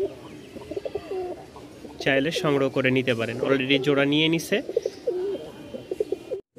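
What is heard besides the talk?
pigeons cooing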